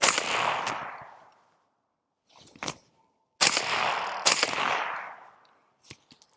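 Shots from a CMMG 5.56 rifle fired outdoors, loud and sharp with long decaying echoes: one shot, a pause, a smaller report, then two close shots followed by faint distant cracks.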